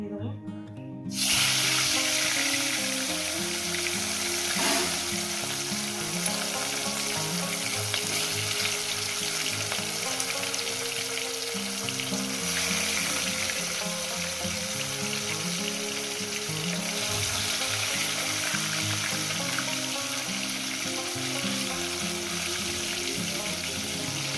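Rohu fish pieces frying in hot oil, a loud, steady crackling sizzle running continuously throughout with small spits and pops.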